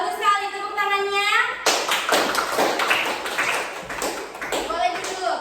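Students in a classroom burst into applause, a dense run of claps starting after a short spoken phrase and continuing steadily to the end, with a voice rising over the clapping near the close.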